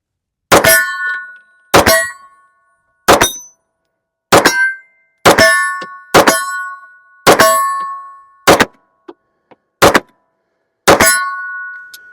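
Browning Hi-Power pistol fired at steel targets about 20 yards away, about ten sharp shots spaced a second or so apart, each with a bright metallic ring that decays quickly, loud and alone.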